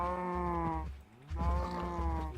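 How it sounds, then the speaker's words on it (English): Cows lowing in the Minecraft video game, two drawn-out moos one after the other, loud and close with a brief dip between them. "I think I'll get one more milk cow going here"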